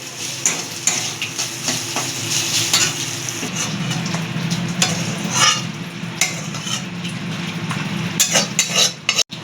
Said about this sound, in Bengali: এটা মিডিয়াম আঁচে রেখে ঢেকে ঢেকে ভাজবেন তাহলে মাংসটা ভালো সিদ্ধ হয়ে যাবে